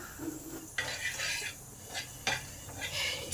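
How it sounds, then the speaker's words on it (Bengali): A broken dry red chili and nigella seeds fry in hot oil in a pan, a low hissing sizzle punctuated by a few clear metal spatula scrapes and knocks, near and fairly quiet. "এই লঙ্কা কালো জিরেটা ভালো করে ভাজা হয়ে গেছে"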